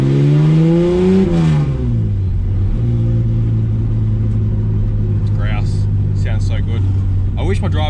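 A budget AU drift car with an upgraded fuel pump accelerates hard, its engine revving up loudly, dipping at a gear change, then holding a steady heavy drone from inside the cabin while people talk over it.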